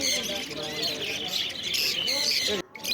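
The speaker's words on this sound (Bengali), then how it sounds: "এখানে লাভ বার্ড আছে তোমরা এখান থেকে দেখে বাছাই করে তোমরা পাখি নিয়ে যেতে পারো" Lovebirds and conures at a bird market fill the air with dense, continuous chirping and squawking, many birds calling at once nearby, with a brief dip near the end.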